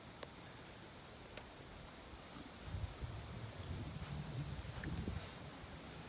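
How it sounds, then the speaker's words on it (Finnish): Steady low wind rumble buffets the microphone outdoors on a golf course in Finland, swelling and gusting in the second half, with a faint rustling hiss throughout. "Mennään Matias vähän tänne tuulen suojaan, niin äänikin kuuluu paremmin."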